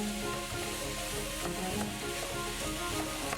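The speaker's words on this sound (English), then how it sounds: "Just chuck it into your frying pan and stir it up." Ground beef sizzling in a frying pan as it gets stirred, a steady faint crackle and hiss with scattered small pops.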